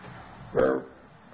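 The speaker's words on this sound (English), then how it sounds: "It is Pytor, the snow dog." One short Siberian Husky puppy bark rings out close by in snow against a quiet background, followed by silence.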